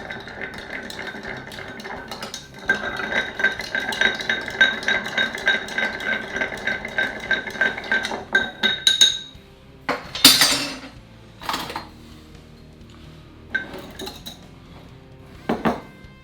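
Ice rattles and clinks steadily as a Negroni is stirred in a glass mixing glass, a close, continuous jingle of cubes against glass for several seconds, followed by a few separate sharp clinks and knocks.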